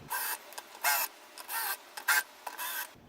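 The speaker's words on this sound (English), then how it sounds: "countersinking them is easier than drilling them" Countersink bit working holes in perspex plastic, giving repeated short rasping grinds in a rough rhythm of about six bursts, close up and without talk.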